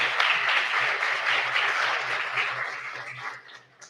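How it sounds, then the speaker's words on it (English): An audience at a civic panel discussion applauds the panelists, a dense, steady roar of clapping that holds and then tapers off toward the end. "Let's give them a round of applause"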